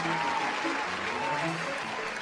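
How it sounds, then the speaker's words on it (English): Audience applauding Coolest Cooler creator Ryan Grepper, a steady, even wash of clapping throughout, close and unbroken, with voices faintly beneath. "Please a round of applause for Mr."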